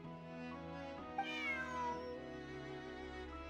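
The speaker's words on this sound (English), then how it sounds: "Bonnie is Pierre's cat" A cat in the video game Genshin Impact gives a drawn-out, rising and falling meow over a low, steady background hum, clear and fairly close, with no talking.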